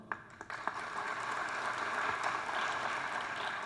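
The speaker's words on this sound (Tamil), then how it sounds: "கைதட்டல்" An audience bursts into steady applause during a Tamil speech by the poet Vairamuthu, a dense wash of clapping that swells after a few scattered early claps and holds loud to the end.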